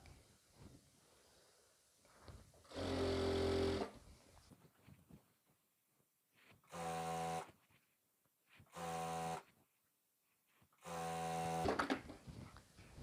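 A sewing machine runs a kameez side seam in four separate bursts, each a few seconds long with quiet pauses between, close and clear with no talk.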